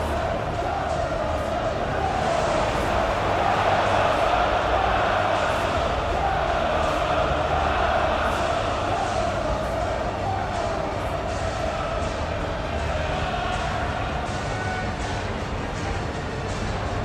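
Capacity stadium crowd in an eFootball video game match, Arsenal vs Man City in the Community Shield: a steady, loud wash of massed crowd noise with general cheering running throughout, no distinct voices standing out.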